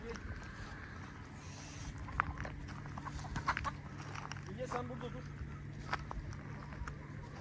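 Chickens cluck softly at a distance amid steady outdoor background noise, with scattered brief calls and rustling.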